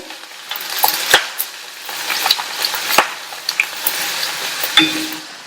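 Chopped onion, a slit green chili and curry leaves sauté in a pan, with soft sizzling under several quick scraping stirs of a spatula, close and fairly loud, no talking.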